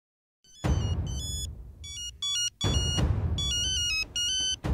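An electronic phone ringtone plays in repeated bursts of bright beeping tones, separated by short gaps, fairly faint and alone.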